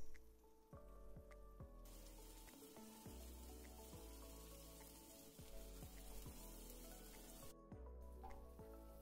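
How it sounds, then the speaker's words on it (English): Green chilies sizzle and crackle steadily in butter, a constant hissing fry that continues throughout beneath some faint background music. "as the green chilies sizzle"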